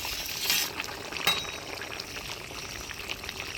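Fried river fish are tipped into a hot, spicy curry with a brief splashy pour and sizzle near the start, then a low simmering bubble continues quietly, close by with no speech.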